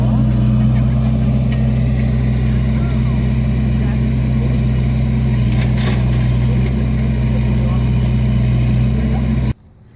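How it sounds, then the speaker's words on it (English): A backhoe scraping topsoil at an archaeological dig site at the Etowah Indian Mounds, its diesel engine holding a steady, loud idle drone throughout before cutting off sharply at the very end. "Then we bring in this backhoe here and we scrape off the top soil and we find the features"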